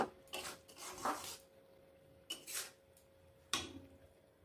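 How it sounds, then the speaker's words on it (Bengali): A spoon scrapes and clinks in a pan while cashew paste is stirred into chicken, giving a few brief, close bursts of scraping separated by quiet gaps. "ভালো করে নেড়ে ছেড়ে নেব।"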